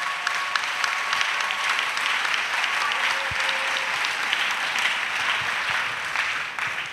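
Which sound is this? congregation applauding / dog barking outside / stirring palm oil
congregation applauding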